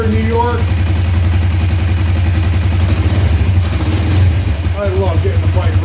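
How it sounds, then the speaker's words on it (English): A 2004 Kawasaki Vulcan 500 motorcycle runs steadily on choke in cold weather, giving a loud, continuous low chugging idle throughout, with a voice speaking over it. "I love getting the bike running again."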